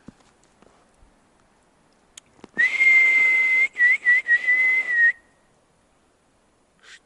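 In a cold, snowy forest a person whistles one long steady note that breaks into several short warbling pulses before fading, preceded by faint crunching steps and clicks.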